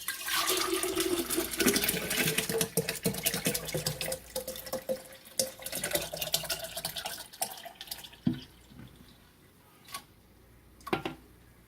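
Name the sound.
pouring liquid into jug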